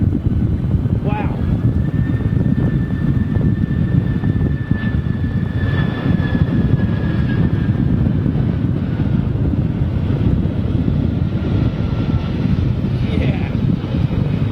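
A Boeing 767 lands at London Heathrow, its broad engine roar steady and loud under heavy wind buffeting on the microphone, with a thin whine drifting across and people talking nearby.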